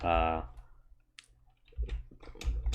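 A single quiet mouse click in World Machine terrain software, sounding briefly between stretches of someone talking.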